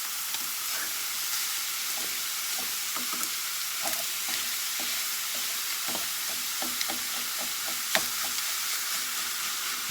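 Raw ground meat sizzles and fries steadily in a pan for stuffing or dressing, with frequent scraping and clacking of a utensil breaking it apart, loud and close throughout with no talking.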